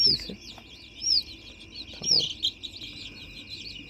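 A native hen held by hand for BCRDV eye-drop vaccination gives faint clucks, while small birds chirp high and steady in the background and a few handling noises interrupt.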